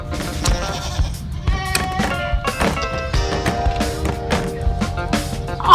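A billy goat bleats repeatedly on a farm, its wavering calls rising over a busy background of other animal noise, fairly loud and close throughout.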